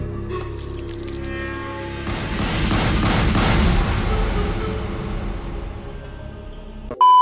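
A loud, rumbling burst of movie explosion sound effects and crackling debris swells for several seconds, then fades away, with a sharp sound cutting in at the very end.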